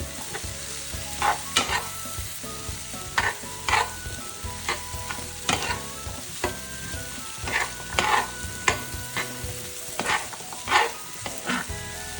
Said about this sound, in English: And next I'm going to add the diced potato, as well as the pumpkin